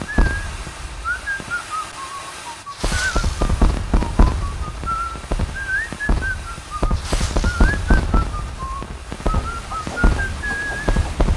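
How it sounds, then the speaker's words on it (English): Video-game fireworks in an Epcot attraction recreated in Project Spark on Xbox One: rising whistles climb repeatedly while bursts and crackles pop throughout, fairly loud, with no voices. "he's got the fireworks going"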